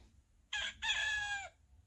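A rooster crow from a children's play-a-sound storybook sounds once, loud and close, a brief opening note followed by a long, drawn-out call that tapers off, set against a quiet background.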